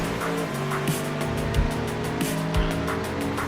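A racing car engine in a video game hums loud and steady with a constant drone, broken by a couple of low thumps, and no speech over it.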